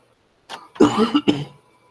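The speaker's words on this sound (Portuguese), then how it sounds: "Tosse." A few close coughs, the middle one longer and throaty, rough like clearing the throat, in an otherwise quiet room.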